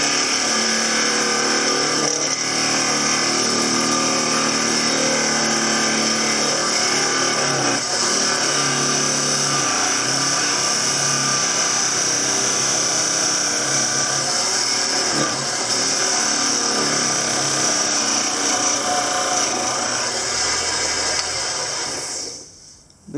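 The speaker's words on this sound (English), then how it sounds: "I'm separating the lid from the base. Doing most of that with this chisel." A wood-turning chisel parts a turned lid from its base on a spinning lathe, producing a loud, steady, high-pitched whine with a rougher cutting edge that runs unbroken and cuts off abruptly at the very end.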